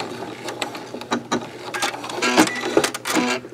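A sewing machine lock stitches on a rope bowl, giving rapid uneven mechanical clatter and ratcheting taps close by, with irregular bursts and brief pauses.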